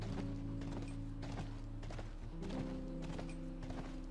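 Horse hooves clip-clop in The Last of Us video game, a quick rhythmic gallop of soft thuds heard faintly beneath a low steady background hum.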